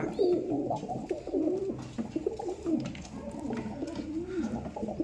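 Pigeons coo close by in repeated soft, throaty rolling phrases, one after another with no pause.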